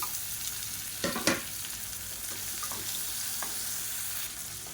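Tomato and turmeric sizzle in a pan for semiya upma: a constant close frying hiss broken by a few sharp spoon taps and stirring scrapes.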